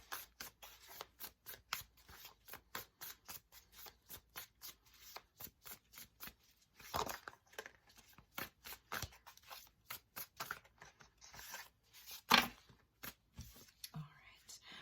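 Tarot cards are shuffled in a steady run of quick, crisp riffling slaps, heard close and fairly quiet, with a faint whisper and a few louder card snaps mixed in.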